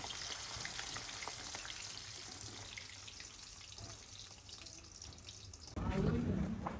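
Potato chips frying in hot oil in a home kitchen, a steady bubbling sizzle that grows louder near the end as more chips hit the oil.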